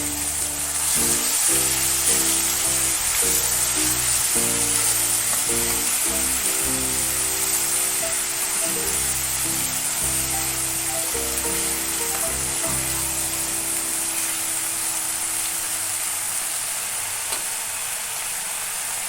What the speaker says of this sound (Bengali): যে মশলাটা পেস্ট করে রেখেছিলাম সেটা এবার দিয়ে দিচ্ছি।